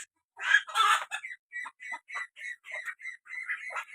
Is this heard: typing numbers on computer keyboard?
no